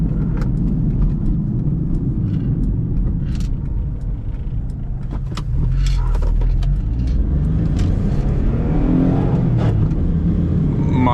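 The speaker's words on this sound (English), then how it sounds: "Mind the grinding into second gear." A 1996 Geo Metro with a rebuilt transmission drives along, a loud steady engine and road drone with faint mechanical clunks and a slight surge as it grinds into second gear.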